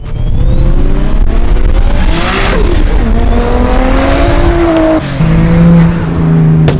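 JDM Nissan Skyline cars, including an R32 GTR, R33 GTS-T and R34 GTT, roll past at close range, their loud engines droning and rising in pitch as they pass, with tire noise and steady wind rumble throughout.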